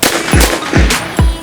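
Three sharp, loud pistol shots from a Kel-Tec PMR-30 on an outdoor range, fired in quick succession with brief echoing tails, nobody talking.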